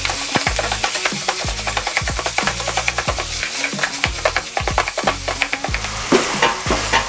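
Hamburger meat frying in an overly hot pan, loud crackling sizzle under repeated scraping and stirring strokes of a utensil against the pan, close up and continuous with no talk.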